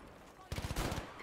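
A quick burst of automatic gunfire in the video game Battlefield V, a rapid string of shots lasting about half a second, fairly faint and distant.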